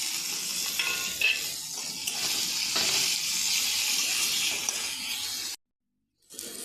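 Turmeric powder and chopped tomato fry in oil as the base of a simple Bengali fish curry. A loud, close, steady sizzle cuts out abruptly for about a second near the end, then resumes.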